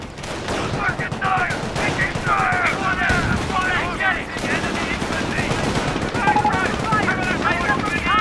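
Rapid machine-gun and rifle fire pours onto a mortar emplacement in Company of Heroes, sustained rattling bursts running steadily beneath a commentator's continuous talk.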